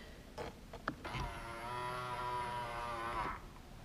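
Power side mirrors on a Chevrolet Silverado pickup folding in, a steady whirring electric motor hum lasting a few seconds, faint and close, with a couple of clicks at the start.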